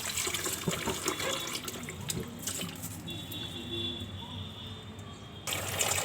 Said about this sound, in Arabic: انا خلصت غسيل اول مره، هعيد عليه كمان مره وانا شطفه بقى عشان يبقى نضيف